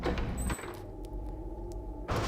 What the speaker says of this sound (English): And so that opened up this door right here.